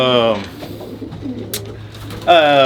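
Homing pigeons in a loft, including Texas Pioneers, give soft, close cooing calls at the start and end. Steady background noise and a faint voice sit between the calls.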